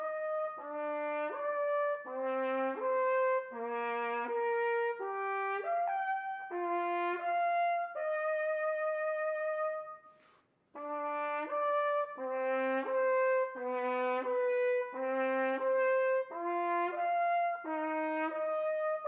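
A solo trumpet plays an Arban octave exercise, clear separate notes leaping between octaves in a steady pattern, with a brief pause midway before the phrase repeats, close and clean.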